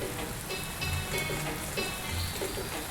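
Steady rain falls in a video game, a continuous hiss of drops on surfaces with soft pattering, while faint musical tones ring intermittently underneath.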